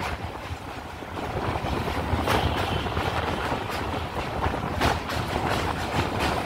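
Suburban train running from Sealdah to Baruipara near a Hooghly river bridge, heard from inside the carriage as a steady loud rumble with rhythmic wheel clatter and occasional sharper knocks.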